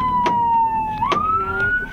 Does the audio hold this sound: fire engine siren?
yes